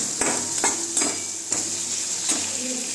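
Maggi noodles with black masala being stirred in a pan, a steady sizzle broken by several distinct scraping strokes of the spoon, close and clear.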